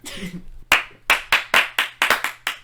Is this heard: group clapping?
yes